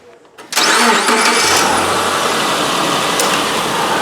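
A car engine cranks and catches, then settles into a steady, loud idle running close by during an A/C compressor clutch test, with no talking over it.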